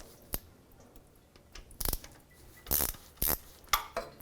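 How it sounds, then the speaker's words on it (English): A 1/4-inch ratchet works loose the transmission pan bolts on a 2005-2010 Dodge Dakota, giving short bursts of metallic clicking separated by pauses and small knocks. The sound is close and irregular, with no talking. "I'm just going to start breaking free all 15 pan bolts"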